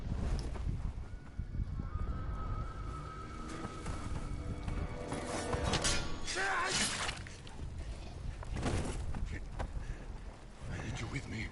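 Hooves of a horse clip-clop in the video game Ghost of Tsushima, a quiet, uneven patter mixed with other busy game sounds and whooshing noise throughout.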